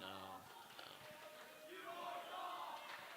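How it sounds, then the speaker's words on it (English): A high school basketball crowd in a gym lets out a disgruntled murmur and a few raised shouts, distant and faint, under a commentator's voice. "Crowd's not happy."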